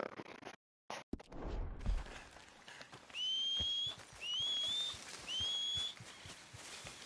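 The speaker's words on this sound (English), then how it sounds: "Anyone else notice how your online character whistles the exact same way as Arthur?" A Red Dead Redemption 2 online character whistles three short, identical upward-sliding notes in even succession, clear and close over soft ambient game noise after a few abrupt cuts.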